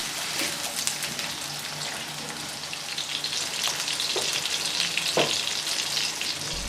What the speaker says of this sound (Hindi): प्याज हमारा अच्छे तरीके से फ्राई हो चुका है।